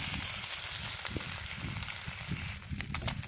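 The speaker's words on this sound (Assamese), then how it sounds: "তেল গৰম হ'লতে মাছকেইটা গোটেইকেইটা এতিয়া ভাজি ল'ম" A steady hiss of shingi catfish half-frying in hot oil, with faint crackles and pops throughout.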